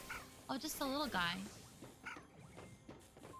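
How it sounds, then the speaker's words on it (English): A dog cries and yelps in high, wavering whines and short barks, close and fairly loud, while a person speaks briefly over the sounds. "Sorry if you can hear my dog, like, cry barking right now."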